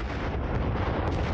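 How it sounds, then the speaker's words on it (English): Rumbling, booming explosions from a Super Mario RPG battle against Smithy, a dense continuous barrage of blasts filling the whole moment at steady loudness with no talking. "Explosions. Combust. All over the place."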